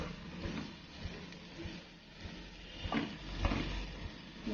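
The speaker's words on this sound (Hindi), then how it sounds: "एक मिनट के लिए इसको भून लेते हैं।" Tomato paste frying in a pan for mushroom masala, a soft, steady sizzle with occasional stirring scrapes and light knocks, close but fairly quiet, with no talking.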